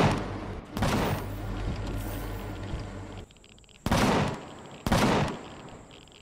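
Base turrets in the Empyrion Galactic Survival video game firing at aliens, loud rapid bursts of automatic gunfire that stop and restart in three separate volleys, with no talk.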